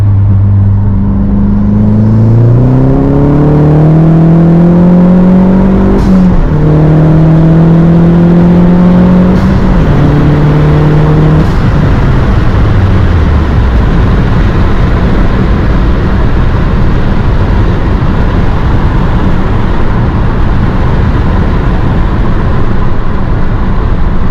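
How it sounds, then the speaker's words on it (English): Modded Mazdaspeed with aftermarket exhaust pulls hard through several gears, engine note climbing repeatedly between shifts, then a turbo blow-off valve whoosh as the throttle lifts, loud and close from inside the car with the window down. "I just rolled down the window so you guys could maybe hear the exhaust a little bit better, and maybe you guys could catch the blow off."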